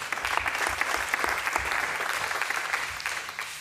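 Delegates applaud at an International Olympic Committee session, with dense clapping from a seated assembly in a large hall and a low hum underneath, tapering slightly toward the end.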